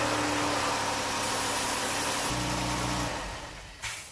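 A Pentastar 3.6 V6 car engine idles after an oil change with a steady low hum and hiss, its tone shifting partway through before settling quieter near the end.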